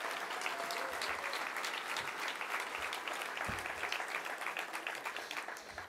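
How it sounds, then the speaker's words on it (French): Audience applause at a town mayor's new-year reception in Terville, France: a dense, sustained clapping from a crowd lasting several seconds and slowly tapering toward the end. "Je pense qu'on peut les applaudir."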